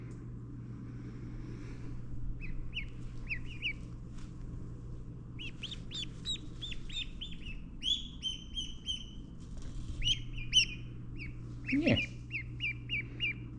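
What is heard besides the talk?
baby ducks peeping on a farm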